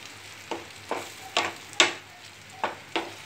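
Beaten eggs for egg bhurji stirred in a pan of oil over a gas flame: a soft background sizzle broken by about seven distinct scraping stirs spaced roughly half a second apart, close and fairly quiet, with no speech.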